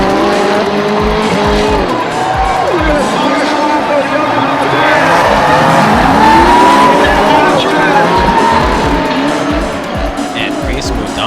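Drift cars in a tandem heat run bumper to bumper. Engines roar loudly and continuously with tire squeal and rising and falling revs, and a voice speaks over the noise throughout.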